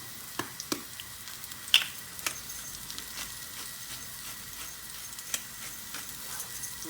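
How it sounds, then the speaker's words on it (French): Mushrooms sizzle quietly in a hot pan as they are seasoned at the start of cooking, a soft steady crackle broken by a few sharp pops and light clicks. "On y jette les champignons tout en assaisonnant au début de la cuisson, afin de leur faire perdre un maximum d'eau."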